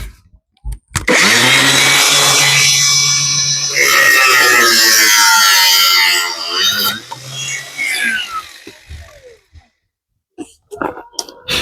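Power tool cutting through a plastic container, a loud close whining buzz that runs for several seconds, dips briefly, resumes, then tapers off into scattered handling noises, with a voice speaking partway through.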